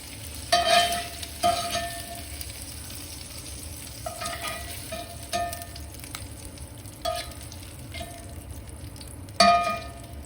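Sausage is lifted out of a sizzling frying pan, with a steady fry hiss under a few sharp utensil scrapes and clanks against the pan, spaced irregularly, the loudest near the start and end.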